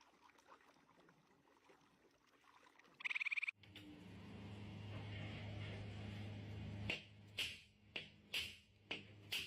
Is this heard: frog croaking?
yes